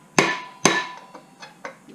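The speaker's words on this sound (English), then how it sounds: "having to use a plastic hammer, which gives it more of a shock than this type of hammer" A plastic hammer strikes twice, loud and close, to drive a part out of a Kawasaki KZ400 motorcycle during disassembly, followed by three lighter, fainter taps, each ringing briefly with a metallic tone.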